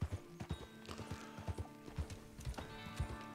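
Horse hooves clip-clop in Red Dead Redemption 2, a quick rhythmic run of close hoof strikes with a faint whinny mixed in.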